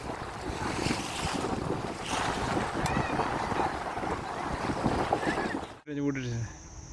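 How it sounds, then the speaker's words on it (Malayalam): Strong, steady wind roars and buffets the microphone outdoors at Umiam Lake in Meghalaya, with faint sounds of water beneath; a brief high tone briefly cuts in near the end. "ഏതാ കാറ്റ്."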